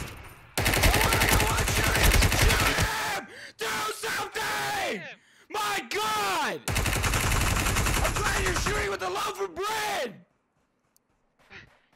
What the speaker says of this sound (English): I see it, I'm shooting at it.